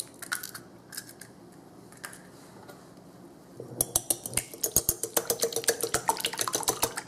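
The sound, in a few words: whisking two eggs in a bowl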